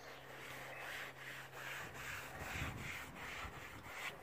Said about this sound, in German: Polieren es ab.